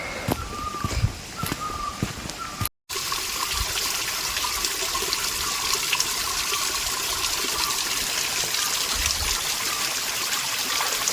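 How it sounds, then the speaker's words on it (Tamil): Water flows in a steady, continuous trickling stream in a forest in Himachal Pradesh, close by, with no talking. "இப்போ இந்த இடத்துல கொஞ்சம் தான் தண்ணி வந்துகிட்டு இருக்கு"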